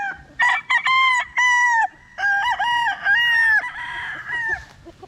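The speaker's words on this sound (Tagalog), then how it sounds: "at narito yung isang stag natin na poster kelso" A Kelso gamecock stag crows several times in a row, loud and close, its harsh harmonic calls broken by short gaps and ending in a drawn-out final crow, with faint background noise beneath.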